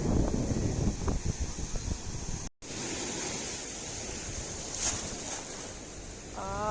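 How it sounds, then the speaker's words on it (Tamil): Ocean waves wash onto Marina Beach in a steady broadband surge with wind noise. The sound cuts out briefly partway through, then returns just as loud. "அலை நிறைய நிறைய அலை."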